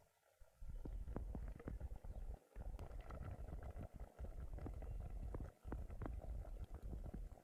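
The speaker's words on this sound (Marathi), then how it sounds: "पाणी आटले आणि कालवण सुद्धा चांगलं शिजले" Crab curry simmering in a pot on a wood-fired clay village stove, a steady loud bubbling and spluttering that carries on almost unbroken, with a few brief dips.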